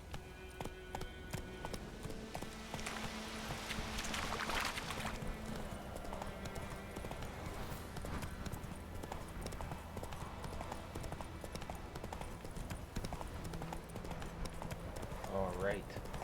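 Roach the horse galloping in a video game, a steady rapid clip-clop of hooves running throughout under a persistent game soundtrack, with a voice speaking over it.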